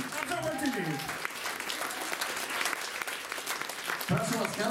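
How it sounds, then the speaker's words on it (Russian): Audience applause at a piano evening concert, a steady dense wash of clapping hands filling the whole stretch, loud and continuous. "Аплодисменты."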